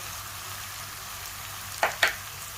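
Canned tuna being stirred into fried spices in a pan, a soft continuous sizzle with two quick scraping clinks of a utensil near the end.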